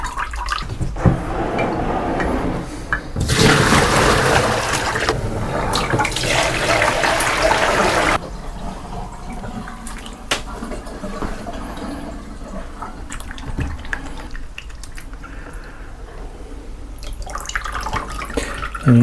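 Water runs noisily from a tap for several seconds while rinse water is changed during carbon transfer printing, then cuts off, leaving quieter splashing and drips.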